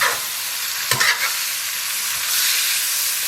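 Onion, green chili and bean sprouts stir-fried in a wok with sausage and tomato produce a loud, steady sizzle and hiss, broken by a brief clatter of stirring near the start.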